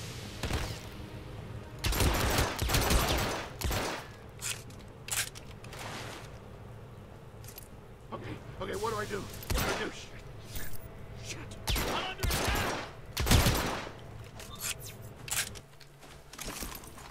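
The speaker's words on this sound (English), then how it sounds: "What kind of shooting is that guy doing?" Bursts of gunfire in the stealth shooter Hitman: Absolution, with repeated loud broadband shots and rapid volleys spread across the stretch, under a steady game soundscape and occasional talk.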